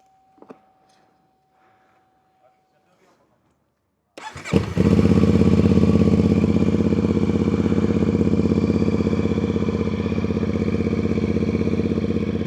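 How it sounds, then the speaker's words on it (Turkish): After a few seconds of faint background sounds, a 450 SR motorcycle engine cranks and fires on a cold start, then settles into a loud, steady close-up idle. "Şöyle motora bir cold start verelim de sesini duyalım."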